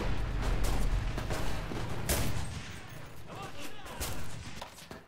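Rapid volleys of rifle and machine-gun fire in the video game Enlisted, close sharp cracks mixed with distant booms in a busy battle, with a player's voice talking over parts of it.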